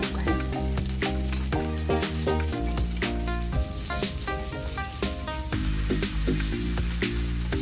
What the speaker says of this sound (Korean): 돼지고기 넣고 중불에 볶아줍니다.